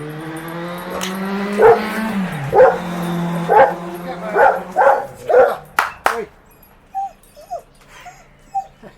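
A pet dog barks repeatedly at passing motorbikes, a series of loud close yaps and whimpering yips at an uneven rhythm, with a vehicle passing and a droning tone underneath before the barks thin out.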